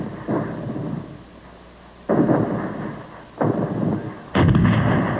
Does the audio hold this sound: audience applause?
no